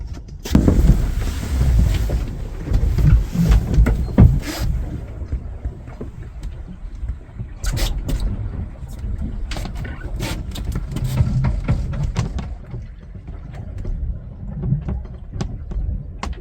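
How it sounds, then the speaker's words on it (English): Water rushes and hisses past the hull of a sailing yacht under sail with the engine off, on a passage from France to Ireland. A steady, close wash carries irregular louder surges, with wind buffeting the microphone. "You can listen to the sound of the water rushing past the hull"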